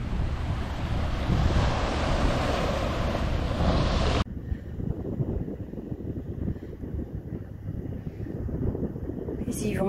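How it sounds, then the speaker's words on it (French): Surf and sea waves wash steadily along the shore on a walk from Arrecife to Los Mármoles, heavy and wind-buffeted at first, then softer and steady lapping for the rest. "je suis là et j'entends le clapotis de la mer."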